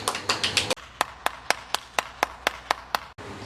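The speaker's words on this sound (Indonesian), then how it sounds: "Tepuk tangan dong buat teman-teman kita." Hands clap in a steady, evenly spaced rhythm of sharp claps at about four per second, starting briefly denser and then settling into a regular beat that stops abruptly.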